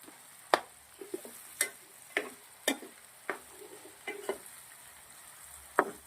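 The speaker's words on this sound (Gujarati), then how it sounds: "સબ્જી આપણે મિક્સ કરી દઈશું આવી રીતે." A spoon scrapes and stirs fenugreek potato sabzi together with roasted tomatoes in a pan, with irregular close clinks and scrapes spaced over a quiet sizzle.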